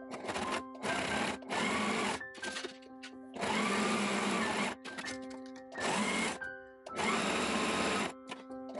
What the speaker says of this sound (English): I'm going to sew it just right along that serged line there